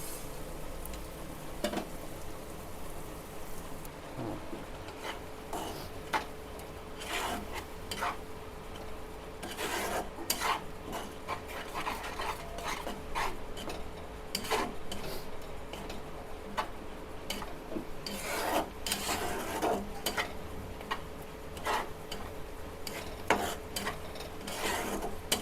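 Paste for a Bengali prawn malai curry sautéed and stirred in a pan, a steady sizzling hiss with scraping and rasping spatula strokes repeating throughout, close and continuous with no talk.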